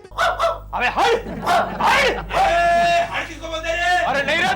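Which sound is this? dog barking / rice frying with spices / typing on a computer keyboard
dog barking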